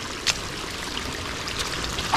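Water from a rice paddy runs down past concrete steps, a steady trickling flow close by with a couple of brief splashy bursts.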